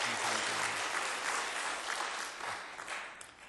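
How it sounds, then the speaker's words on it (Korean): A church congregation applauds the choir at the close of a Sunday worship service, a full, even wash of many hands clapping throughout. "우리 찬양대 위해서도 한번 박수하시겠습니다"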